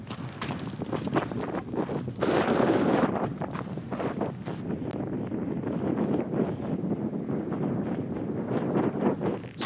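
Cold wind buffets the microphone on a desert mountain ridgeline in the Kofa Wilderness, producing a continuous rushing roar with stronger gusts rising and falling, and no voices.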